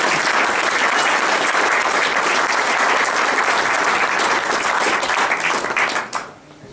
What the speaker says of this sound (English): So I'd like to give a nice round of applause.